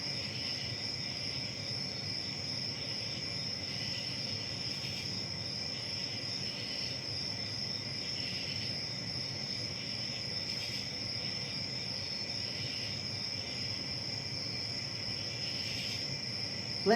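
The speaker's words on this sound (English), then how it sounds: "Perhaps you can tell or notice the sounds of crickets in the background." Steady crickets chirp continuously in a quiet night setting, a dense high trilling that holds at an even level throughout with no voices.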